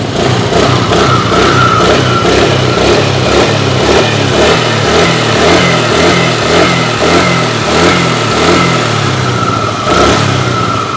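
A Suzuki motorcycle engine with a vacuum carburetor revs loudly and repeatedly up close, rising and falling in a steady rhythm with a rough, throbbing exhaust note.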